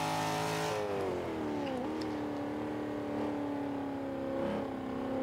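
A 1995 Mustang engine in Forza 5, a steady droning rev that sags and climbs in pitch as the car races, loud and continuous throughout.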